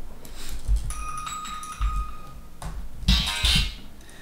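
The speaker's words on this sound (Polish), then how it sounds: "Przepraszam za dźwięk budzika." An alarm clock rings during a game session, giving a few bright electronic beeping tones that come in short bursts. A low rumble and a few handling knocks sit underneath, and no one speaks.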